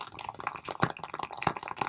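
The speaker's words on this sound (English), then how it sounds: "if you guys hear that cackling in the background, that's this candle right here" A burning candle crackles in a quiet room, giving a scatter of small, irregular pops and ticks at close range, with a few sharper snaps among them.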